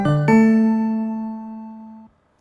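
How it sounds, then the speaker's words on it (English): A Long Island Rail Road alert chime that comes before urgent announcements such as track changes, two loud tones stepping down, the second held for about two seconds before it stops, with no voice. "And then there might be one that's more of an alert,"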